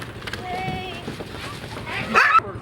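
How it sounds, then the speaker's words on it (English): Sled dogs from a team on summer exercises out by the ice edge near Barrow bark, yip and whimper at close range, with sharp excited cries peaking near the end, while voices can be heard in the background. "accompany Barrow's last remaining sled dog team on their summer exercises"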